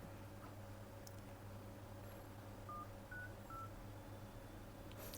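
Phone keypad dialing tones while placing a call on an MTK mobile phone, a few short separate beeps, faint and close, over a low steady electrical hum.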